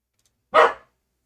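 One short, loud bark from a nearby dog, with silence before and after.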